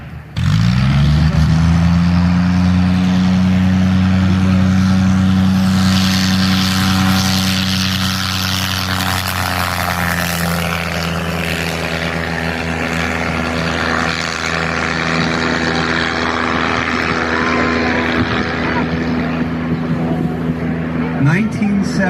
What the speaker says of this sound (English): It's what, the 1917 Newport 28. You hear it slowly walking at one sputtering a little bit.